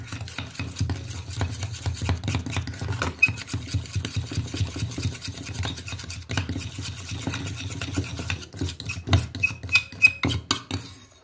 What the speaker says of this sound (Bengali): তারপর একটু ফেটিয়ে নিচ্ছি।